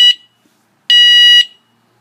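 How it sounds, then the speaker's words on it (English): An electric bike motor controller beeps twice to signal unplugged hall sensors, a short blip followed by a longer sustained beep, loud and close, with silence between. "There's the two beeps to indicate that the hall sensors are unplugged"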